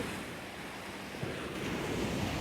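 Strong waves at Cha-am beach in Thailand: a continuous broad wash of surf rolling in close by, mixed with wind buffeting the microphone. The roar swells slightly toward the end, and no one speaks.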